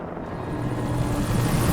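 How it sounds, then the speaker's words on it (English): A helicopter flies nearby in the video game Alan Wake, giving a steady, fairly loud droning rumble with a pulsing low throb that holds and swells slightly throughout, with no talking. "Okay, we've got what sounds like a chopper somewhere."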